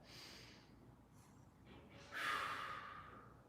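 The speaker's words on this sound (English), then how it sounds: "One more big breath" A deep breath taken during a floor mobility exercise: a soft steady inhale followed by a louder rushing breath out, close and alone, no talk.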